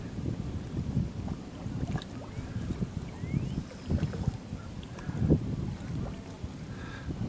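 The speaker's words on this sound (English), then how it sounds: "A little breezy today." Gusty wind buffeting a boat near Port Colborne, a steady low rumble close to the microphone with irregular louder gusts and faint knocks and creaks, no voices heard.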